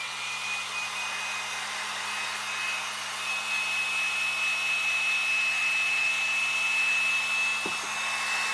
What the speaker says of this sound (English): now I'm going to put my heat gun to this.